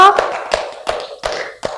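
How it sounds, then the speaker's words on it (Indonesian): A few people clap for a presenter in a classroom microteaching session, giving five separate, sharp claps in an uneven rhythm, close and fairly loud with no talk. "Tepuk tangan untuk Mas Tio"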